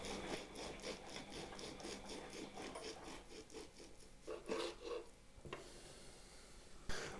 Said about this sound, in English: I'll use a serrated knife. I find it a bit easier than a sharp knife to cut the buns.